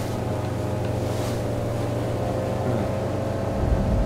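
Boat engine droning in Far Cry 5 on a rubber inflatable boat, a steady low hum with water wash, constant and moderately close, without speech.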